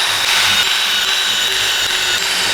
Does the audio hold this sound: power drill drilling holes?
yes